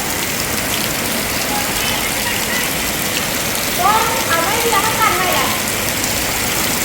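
Loud, dense storm rain pours down steadily in Laos, a heavy hiss throughout, with a brief burst of chirping or squeaking in the middle.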